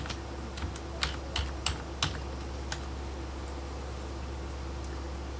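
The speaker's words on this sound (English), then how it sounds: "so I type in my username" Light, quiet clicks of keys on a computer keyboard as a username and password are entered, a short irregular burst of taps over a steady background hum.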